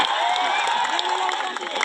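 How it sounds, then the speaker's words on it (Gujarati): Live crowd at a Vikram Thakor event cheering and applauding, a dense, steady roar of voices and claps with shouts and whoops, loud and close and continuous throughout. "તાળી થઈ જાય વિક્રમભાઈ માટે."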